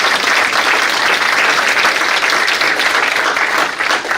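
A standing-room crowd at a local first selectmen debate on a university campus gives loud, continuous applause, close and sustained throughout.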